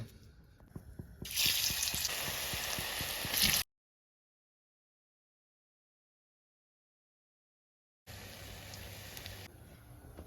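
Potato pakora batter frying in oil, a steady broadband hiss in two bursts separated by several seconds of silence, loud and close with no talking.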